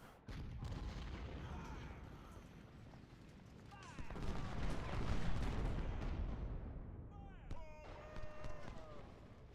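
Artillery fire in the Civil War strategy game Ultimate General: Civil War, rumbling cannon booms and scattered gunfire swelling into a dense barrage, heard under someone talking.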